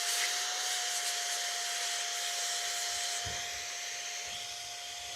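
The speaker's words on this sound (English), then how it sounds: "Do I hear a vacuum? I do." Vacuum cleaner running at a distance, a faint steady airy whir with a thin constant whine, lasting the whole stretch without talk.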